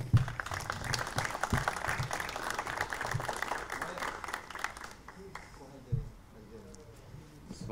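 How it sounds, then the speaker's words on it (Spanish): Applause from an audience at an intercultural awards event as an honoree collects a prize, steady clapping with a few sharper claps, tapering off sharply partway through into quieter room noise. "Un aplauso para él."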